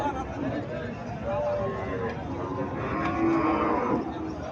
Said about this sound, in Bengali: এখানে একটা দেশি গাভী দেখা যাইতেছে।